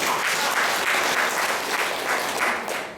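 Loud, sustained clapping from an audience at a natural-medicine camp in Madurai, a dense wash of hands that swells in waves and tapers slightly at the end.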